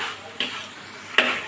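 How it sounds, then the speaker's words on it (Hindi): Chicken jalfrezi frying in a pan, a soft steady sizzle broken by two sharp utensil scrapes against the pan, close and quiet with no talking. "चिकन जलफ्रेजी को हमने इतनी देर फ्राई करना है जब तक कि इसका ऑयल ना आ जाए साइडों से"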